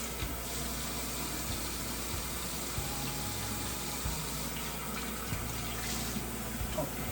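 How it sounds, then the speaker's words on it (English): A hot water tap runs steadily nearby, washing a clay casserole pot, a continuous hiss of flowing water with a low hum underneath. "I'm gonna turn on the hot water"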